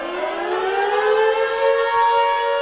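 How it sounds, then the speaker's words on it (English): A Second World War air raid siren winds up with a rising, then steady wailing tone, loud and close, sounding alone for a few seconds. "Second World War siren."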